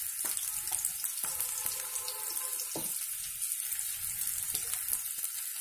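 Fish and onions fry in a pan with a steady sizzle and crackle, alongside faint watery clinks and stirring sounds; no one speaks.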